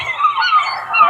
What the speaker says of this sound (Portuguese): Pássaros cantando.